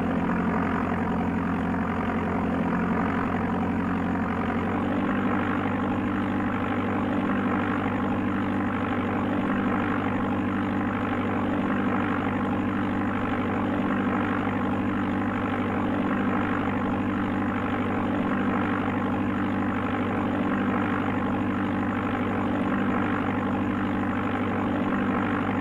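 Steady, droning engine hum of a small aircraft landing in the Amiga game Flight Simulator II, continuous and unchanging in loudness apart from a slight shift in tone early on, with no speech.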